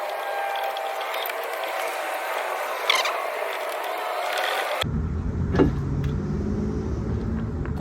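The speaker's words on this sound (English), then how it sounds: "Let's see if we can get these brakes out right quick." A hand ratchet clicks close up while brake pads are taken off a Dodge Challenger SRT8 392 worn to bare metal, with short bursts of ratcheting in a garage setting and a sharp change in background partway through.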